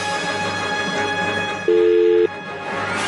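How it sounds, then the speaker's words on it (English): A single steady telephone tone sounds for about half a second, loud and clean, over a continuous studio background hum while a call is placed. "Let me get Bromo on the phone"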